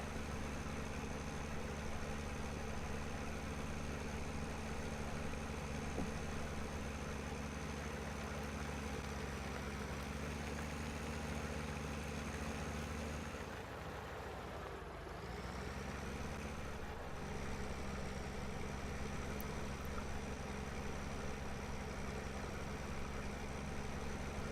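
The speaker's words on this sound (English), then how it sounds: "The little Deutz really do like this tractor." Deutz tractor engine idling in Farming Simulator 17, a steady low droning hum that dips briefly midway before resuming, even and continuous with no talking.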